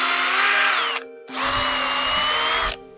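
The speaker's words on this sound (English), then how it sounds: "Let me drill out some of those holes and clean up the 3D print artifacts" A power drill whirs loudly in two sustained bursts, a brief pause between them, the pitch dipping slightly as the bit bites into plastic, drilling out holes in a 3D-printed part.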